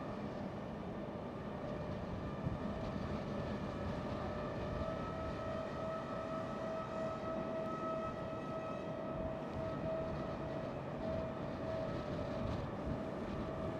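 An Eastern Airways aircraft flying for KLM Cityhopper at Amsterdam Schiphol, a steady, distant engine roar with sustained tonal whine, unbroken for about fourteen seconds on a windy day.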